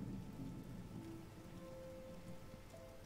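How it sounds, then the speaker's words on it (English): Video-game rain patters steadily on a surface with a low rumble beneath, constant and moderately loud, accompanied by faint sustained tonal sounds. "Yeah, it's raining, James."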